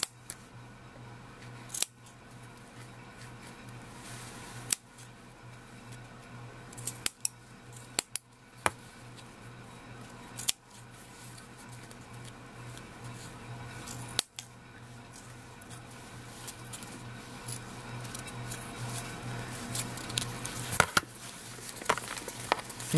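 Scissors snip into fabric to form a shabby rosette, giving sharp, irregular cuts scattered across the clip over a steady low background hum, with no talking.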